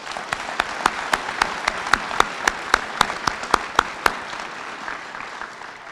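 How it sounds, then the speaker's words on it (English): Applause from an audience at an elementary school opening ceremony, honoring a color guard and anthem singer; steady crowd clapping with a distinct, evenly timed run of louder claps for about four seconds before tapering. "Could we give them one more round of applause?"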